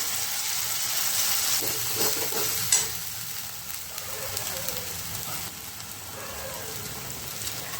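Ground peanut mixture roasts in oil for a ridge gourd curry, making a continuous hissing fry with scraping stirs and one sharp clink partway through.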